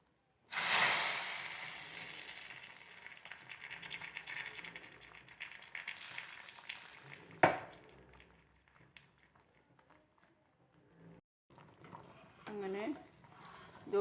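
Mustard seeds splutter and crackle in hot oil while sambar is being made, a dense hiss that starts loud and gradually fades, with someone talking over it.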